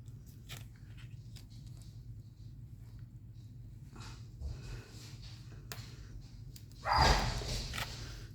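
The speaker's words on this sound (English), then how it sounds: "Please excuse the dogs." A brief burst of barking from several dogs comes near the end, loud and close, after a quiet stretch of faint rustling and low hum.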